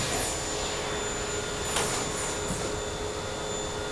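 A screen printing conveyor dryer gives a steady, loud mechanical roar and hiss throughout, with faint high whines and a few brief rattles.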